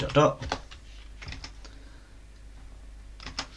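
Keys clatter on a computer keyboard while a command is typed during Raspberry Pi 5 setup, a quick burst of taps up front, a few scattered keystrokes after, and another short cluster near the end, close and fairly quiet.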